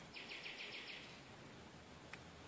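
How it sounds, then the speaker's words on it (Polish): A small bird chirps in a quick series of about six faint, high notes at night, followed by quiet low background hiss and one last brief chirp. "ptaszki ćwierkocą"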